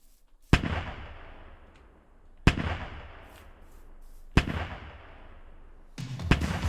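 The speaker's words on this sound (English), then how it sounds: "I made this autocannon here that I think is relatively properly aimed at the ship, and I'm just gonna try and shoot it" Three heavy autocannon shots boom out at roughly two-second intervals in Minecraft with the Create mod, each a sharp blast trailing into a long rumbling decay, with a fourth, rougher burst beginning near the end; no talking.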